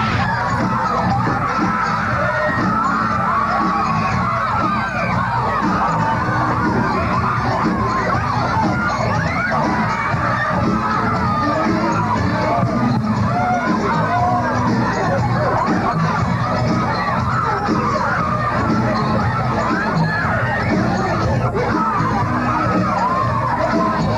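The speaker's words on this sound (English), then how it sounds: "Thank you very much, not only for your applause" A concert crowd roars with sustained cheering, screams and clapping, a thick, unbroken wall of noise holding at full strength throughout.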